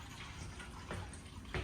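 Running water from a cat's water bowl or fountain indoors, a steady trickling wash that stays low and continuous, with a couple of brief splashy bursts toward the end.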